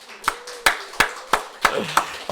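A church congregation at a Sunday service claps in unison, about seven sharp, evenly spaced claps in a steady rhythm, with no talking over them.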